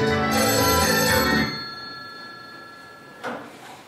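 A telephone rings on stage during a theatre play: a bright, sustained electronic ring for about a second, fading into a reverberant room, then a second short burst of ringing.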